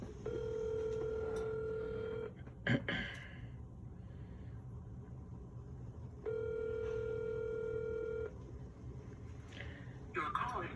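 Two bursts of a telephone ringback tone sound from a call placed down a phone line and left unanswered, each a steady trill lasting about two seconds and separated by a pause, with faint breaths and room noise in between.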